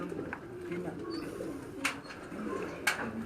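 A Fakir Gul pigeon coos softly on a rooftop in Quetta, Balochistan, with low murmuring calls over faint background noise and a couple of sharp clicks.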